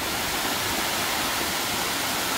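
The Andorinha waterfall roars nearby in a hot, shaded spot beside a pool, giving a loud, continuous hiss of rushing, splashing water with no voices.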